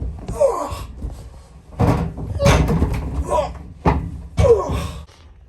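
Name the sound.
heavy door closing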